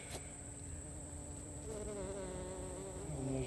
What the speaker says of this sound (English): I come back here and these bees coming and going.